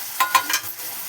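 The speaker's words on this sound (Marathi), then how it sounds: "टोमॅटो थोडेसे परतले की आपण एक भाज्या टाकून घेणार आहोत। भाज्या टाकून घेते" Vegetables and tomato frying in a pan, with three or four quick spatula scrapes over a soft sizzle, close up and brief.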